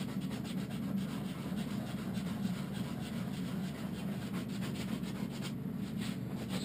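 Pumice stone rubbed steadily across the back of a deer hide during tanning, a continuous close gritty scraping with low rumble, no talk.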